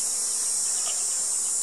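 Honey bees buzzing around a dark, full hive frame, a steady high-pitched hum close by with no speech over it, brief and continuous.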